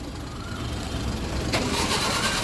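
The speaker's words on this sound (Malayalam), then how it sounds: "വണ്ടി സ്റ്റാർട്ട് ചെയ്തിട്ടുണ്ട്" A Maruti Alto car engine turns over and catches at about the midpoint, settling into a steady running hum; no voices.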